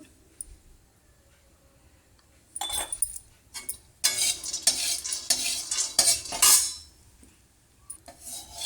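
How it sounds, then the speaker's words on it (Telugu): Frying in a pan over a medium flame while a spatula stirs and scrapes, making bursts of metallic clatter and sizzling after a quiet start, close by and fairly loud with no speech. "ఇది కూడా లైట్గా మీడియం ఫ్లేమ్లో ఫ్రై చేస్తాము"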